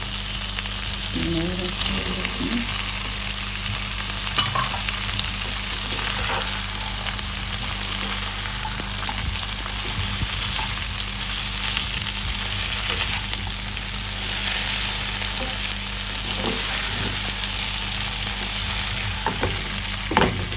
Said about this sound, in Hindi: एक मिनट के लिए इसे फ्राई करेंगे। अब हम इसमें डाल देंगे कैरेट।